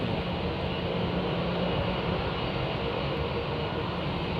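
An airplane departing London Heathrow Airport gives a loud, steady broadband roar that stays at constant strength throughout, with no clear talk over it.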